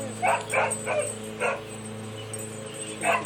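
Several short barks or yips from a dog, likely an Alaskan malamute near a golden puppy, come in separate bursts over a steady low hum, with a pause before a final bark.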